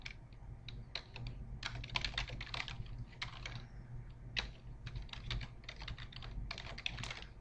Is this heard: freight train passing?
no